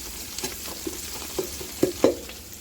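Green chilies are sautéed in a pan for chicken dum biryani, with a faint low sizzle broken by a few scattered spatula clicks and scrapes as they are stirred.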